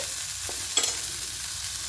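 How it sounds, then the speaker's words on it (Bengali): Brinjal pieces frying in a pan, a soft continuous sizzle with a couple of brief scraping stir sounds, fairly quiet. "বাড়িয়ে দিয়ে বেগুনগুলোকে একটু লাল লাল করে ভেজে নেব।"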